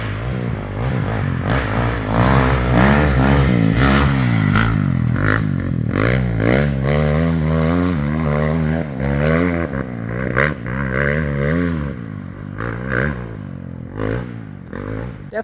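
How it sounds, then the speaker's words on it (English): A Kawasaki KX dirt bike engine revs hard and close, the pitch climbing and dropping through repeated throttle blips with rattly mechanical clatter, loud and continuous without pause. "Definitely sounds like the KX has a little bit longer gearing than the Beta."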